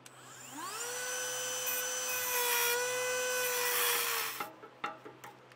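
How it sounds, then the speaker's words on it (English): A Dremel rotary tool spins up to a high, steady whine and scores a metal tab, holding the pitch for about four seconds before cutting off, followed by a few light knocks and clicks close by. "We're going to take a Dremel tool and just put a small score mark in here"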